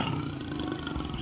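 Angry jaguars at a private wildlife tour in Brazil let out a loud, continuous roar that fills the whole moment, deep, rough and sustained, close by and with no talk over it.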